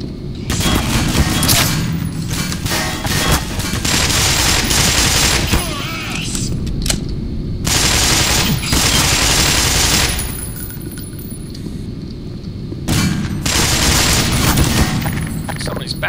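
Bursts of sniper gunfire in the Black Mesa first-person shooter, loud sharp cracks and rattling volleys repeating over the whole stretch, set against a dense rumbling game backdrop.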